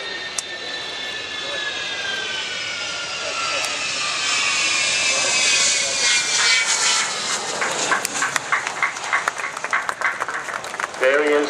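Avro Vulcan XH558 delta-wing bomber landing at the Farnborough airshow, a loud sustained jet roar that swells and holds across the whole stretch, with crowd noise and a voice talking over it.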